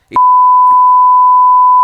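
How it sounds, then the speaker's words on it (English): A steady censor beep tone sustained for nearly two seconds, loud and alone after a brief noise at the start. "I'm gonna have to beep all that out"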